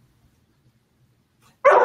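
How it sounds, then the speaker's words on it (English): A single sharp dog bark bursts out loud and close at the end after near silence, with only faint low rustles before it. "she starts barking at us"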